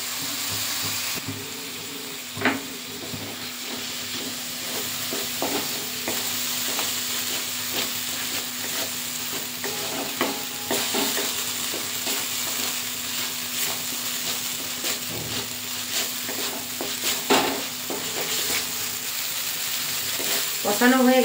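Fish curry spices sauté in a pan with a ground paste of black and white mustard seed and poppy seed, sizzling and hissing steadily at close range, with occasional stirring scrapes and clinks.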